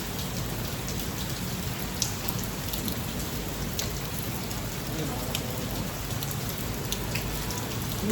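Steady rain falls in a dense, constant hiss of drops on surfaces, unbroken for the whole stretch, with a few sharper nearby drips standing out.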